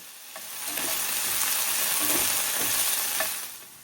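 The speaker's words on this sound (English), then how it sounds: "Every couple of minutes, go through and mix up your potatoes." Potatoes frying in a pan for a chorizo breakfast burrito, a close sizzle swelling as a utensil scrapes and tosses them, with a couple of light clinks against the pan and no talking.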